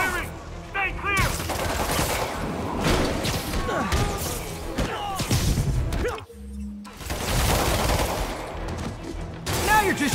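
Rapid gunfire bursts crackle through a Marvel's Spider-Man Remastered game fight, dense and loud for most of the stretch with thuds and whooshes mixed in, a brief lull midway, while in-game character voices call out over the action.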